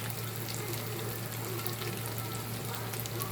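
A second batch of shrimp fritters, tortang alamang, fries in hot oil, giving a steady, dense sizzle and crackle close by, constant throughout with no voices.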